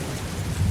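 Thunderstorm with heavy rain, a dense continuous wash of rainfall with deep low rumbling underneath, loud and steady throughout with no voices.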